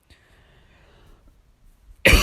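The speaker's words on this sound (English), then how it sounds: "Sorry for the loud noises from me coughing and dying." After about two seconds of near silence, one loud, harsh cough bursts out right at the microphone and cuts off the quiet.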